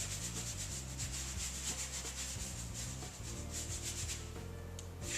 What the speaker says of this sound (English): I just go back to the wall and then very lightly, evenly dampen that surface with very light pressure.